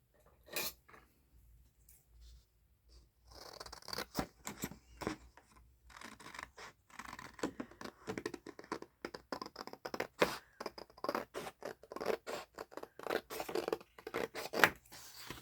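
Scissors snipping out a paper card, quiet and close, starting with a few sparse cuts and building into a steady run of rapid crisp snips.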